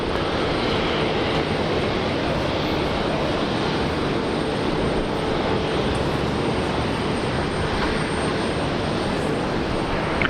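An airliner landing at Brisbane Airport, a loud, continuous engine roar that holds steady throughout without fading, with no talk over it.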